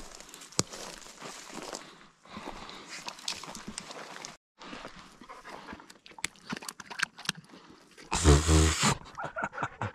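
A hunting dog pushes through brush during a Colorado grouse hunt, its panting and rustling footfalls continuous and close, with a louder burst of scrambling near the end and no voices.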